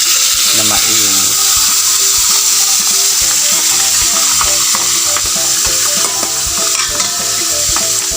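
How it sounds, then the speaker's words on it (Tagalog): Kanduli fish frying in hot oil, a loud, continuous dense sizzle with crackling spatter close by, and faint utensil clinks underneath. "isasalang na po natin siya sa mantika na mainit."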